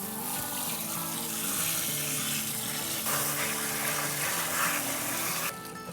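Bitter gourds being rinsed in a basin of water in a home kitchen, giving a steady close splashing and running-water wash that carries on throughout and then drops off sharply near the end.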